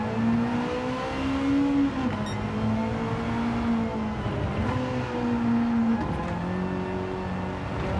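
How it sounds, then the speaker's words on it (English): A Mercedes 190 Evolution race car in Gran Turismo 7 at Brands Hatch drones steadily, its engine note rising and falling through gear changes with continuous revving. "Down the inside, I'm going to change back up to 2nd to just keep the car under control."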